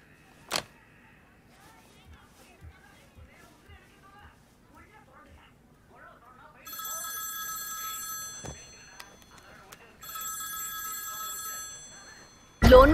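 A telephone rings in two electronic trilling bursts, each lasting a few seconds, amid a quiet room with faint background sounds and a sharp clack at the end.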